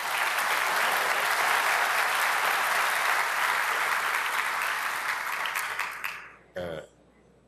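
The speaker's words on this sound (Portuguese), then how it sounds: "a quem eu peço uma salva de palmas" A hall audience at a law-signing ceremony in Brasília gives Minister Afif a round of applause, loud and sustained for about six seconds before it fades, followed by a brief thump.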